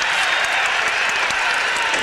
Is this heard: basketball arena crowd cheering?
yes